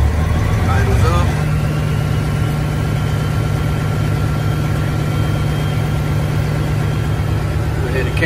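A Freightliner Classic truck's diesel engine idles steadily with a deep low rumble, close and loud throughout, its idle stepping up slightly as a throttle position sensor is worked; someone talks briefly near the start.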